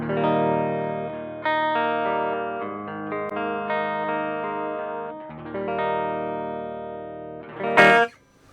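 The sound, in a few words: guitar through Mozztronics CS-1 cabinet simulator, tube driver off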